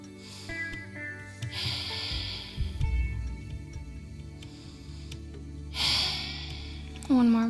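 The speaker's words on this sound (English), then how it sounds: "Just keep breathing here." Slow, audible breathing during a yoga stretch, a few long sighing inhales and exhales close to the microphone, with a person talking around them.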